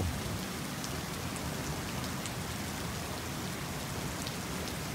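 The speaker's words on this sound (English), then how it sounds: "we're up to half an inch of rain" Heavy rain pours down steadily, a dense, continuous hiss of drops drumming on surfaces with no pauses or voices.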